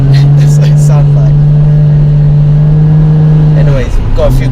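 Toyota Mark II JZX110 with a 1JZ turbo engine slowing under braking, a steady loud droning hum sliding gradually down in pitch like a decelerating train, cut off briefly near the end, with a voice talking over it.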